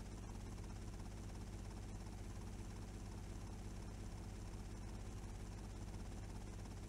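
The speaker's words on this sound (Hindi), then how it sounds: "यहाँ पर हेलीकॉप्टर लैंड कराना भाई एक मौत सुसाइड करने जैसा है" A helicopter in GTA Vice City Stories drones steadily as it comes in to land, a loud constant rotor and engine hum with a low throbbing chop and no talk.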